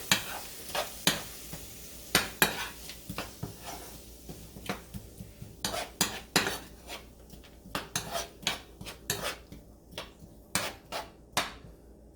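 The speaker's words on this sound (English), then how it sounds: "And then we're just going to let this saute a little bit." Sausage and cabbage sauteing in butter and olive oil in a skillet, with repeated sharp clinks of a utensil scraping and stirring against the pan over a low sizzle, close and moderately loud.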